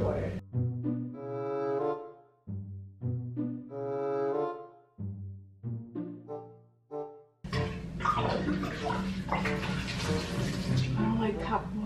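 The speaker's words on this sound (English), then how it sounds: "So now I'm about to pour it out and put it in water." Loud tonal vocal sounds come first, then a steady rush of running water from a tap pours in close and continues without pause to the end.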